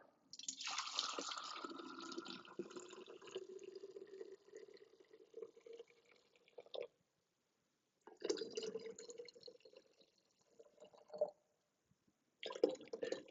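Herbal liquid from an Instant Pot pours into glass ball jars in close, faint trickling bursts, stopping twice for silent pauses before filling resumes.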